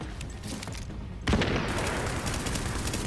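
Gunfire in the video game The Division, a dense burst of rapid shots and booming impacts that suddenly swells louder a second in and keeps rattling steadily.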